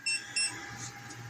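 A portable power station, fed by an internally added 48V battery, gives two short electronic beeps as it shuts off, each bright and distinct, followed by a faint steady hum.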